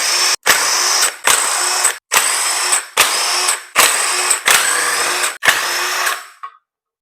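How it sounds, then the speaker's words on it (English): A power tool spins off 10mm bolts from an LS engine's cam plate in seven loud, close bursts of whirring, each about half a second to a second long, separated by brief silences. "We're gonna take all these 10mm bolts off"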